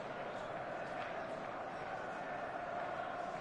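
Stadium crowd in an eFootball match on a clear evening, a steady dense roar of many voices holding at even loudness throughout with no distinct cheers or chants standing out.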